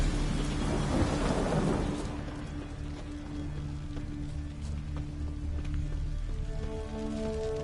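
A thunderstorm in the video game Witcher 3: a deep rolling rumble of thunder peaks early, then steady rain hiss takes over, with faint sustained musical tones underneath.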